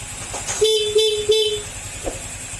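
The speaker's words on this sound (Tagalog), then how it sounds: "troubleshoot tayo ng Honda Click na kusang bumubusina kahit naka-off yung panel" A Honda Click scooter's horn sounds by itself with the key off, a fault: three short, close toots in quick succession, then a faint click and low idle background.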